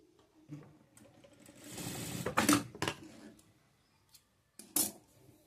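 A sewing machine runs in short bursts while stitching a straight joining seam on a child's top, with a longer continuous run in the middle and a quick final burst, close and fairly quiet.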